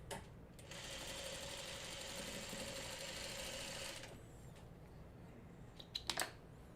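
A sewing machine stitching quilt block pieces for a Farmer's Wife Star Gardener block runs in one steady, fast whirring burst for about three seconds, then stops, followed by a few faint handling clicks and taps.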